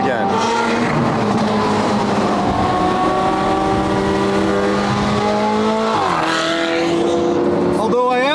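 A Lamborghini Countach, a Hollywood movie car, drives on the road with a loud, steady engine drone close by. The pitch climbs, then drops with a gear change, and rises again before easing off.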